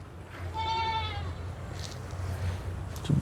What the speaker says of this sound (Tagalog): Yan si Basya, bagong kambing to, buntis na to.